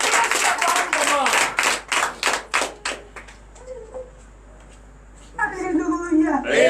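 A church congregation at a French-language morning prayer service claps and cheers in several loud bursts, drops briefly to near quiet, then breaks into applause again, with voices mixed into the noise.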